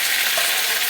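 Green chili paste drops into a hot kadai of oil for a fish curry and sizzles loudly at close range, a dense, continuous hiss with no voices.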